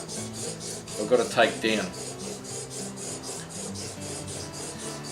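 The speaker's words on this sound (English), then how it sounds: "So now the honing guide, I just run it up and down." A chisel held in a honing guide rasps back and forth on a sharpening stone, a steady rhythmic scraping with regular strokes about every third of a second, close up, while someone talks briefly over it.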